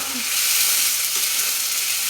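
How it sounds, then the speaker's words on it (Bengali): Mustard oil and butter sizzle in a wok on a stove, a continuous bright frying hiss that stays close and steady, with a faint brief clink near the start. "এখন আমি চুলায় আমি একটা কড়াই বসিয়ে তাতে দিয়ে দিচ্ছি সরষের তেল দিয়ে দিচ্ছি বাটার"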